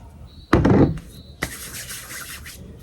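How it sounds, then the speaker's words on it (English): Hands rub grease through hair in close, soft rustling swipes: one louder burst, then a longer, fainter stroke, with no talk. "And I just rub it through my hair."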